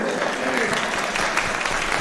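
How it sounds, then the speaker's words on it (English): Attendees at a town deliberative session in Wakefield, New Hampshire give a round of clapping, a loud, continuous burst of many hands with a few voices mixed in. "Everyone, round of applause for Gabe."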